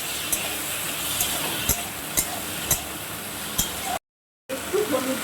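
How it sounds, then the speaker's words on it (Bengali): Salted food stirred in a frying pan over a steady sizzle and hiss, with sharp utensil scrapes and taps against the pan every half second or so, then a brief gap before the cooking resumes. "এবারে আমি পরিমাণ মতো লবণ দিয়ে দিচ্ছি একটু নাড়িয়ে চালিয়ে নিলাম"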